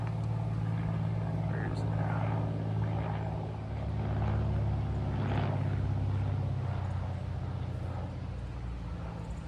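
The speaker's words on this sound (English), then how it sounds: "plane going over" A plane flying overhead outdoors, a steady low drone that swells slightly and holds, with people talking nearby.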